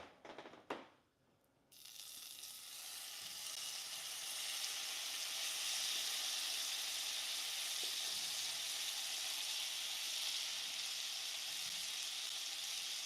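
Food sizzling as it frying in a pan, a loud, steady crackling hiss that swells up after a brief clatter at the start and then holds continuously, close and alone.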